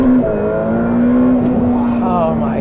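A C8 Corvette Z06 or Ferrari F8 Tributo sports car heard from inside the cabin as a loud, steady engine drone that climbs smoothly in pitch under acceleration, with people talking over it.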